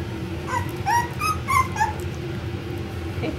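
Four-week-old Pomsky puppies, 75/25 F1b, give a quick run of high whimpers and yips, several short cries close by over a soft background, with no talk.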